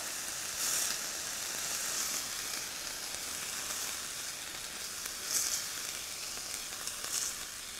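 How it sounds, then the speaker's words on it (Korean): Steak sears in a pan toward medium rare, giving a soft, continuous sizzle with a few brief louder spurts of spattering fat. "그래서 조금만 미디움 레어 정도로만 구울게요"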